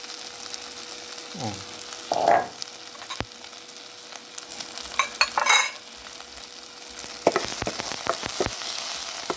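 Coarsely pounded chili crackles and sizzles quietly in a hot pan, with occasional scraping stirs and clinks of a utensil, while cooking stir-fried mushrooms.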